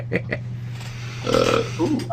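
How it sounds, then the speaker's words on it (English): Belching in a podcast studio: a drawn-out, croaky belch rises near the mic after brief talk, followed by a shorter burp, all over a steady low electrical hum. "We're all belching"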